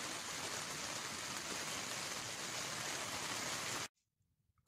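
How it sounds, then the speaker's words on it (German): Steady heavy rain falls at night during a scooter tour from Mainz to the North Sea, a dense continuous hiss close by that cuts off abruptly near the end, leaving near silence. "es regnet und regnet und regnet"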